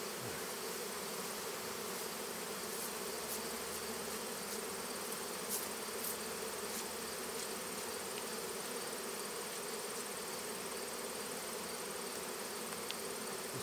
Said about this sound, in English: That was a big pile of bees on the ground.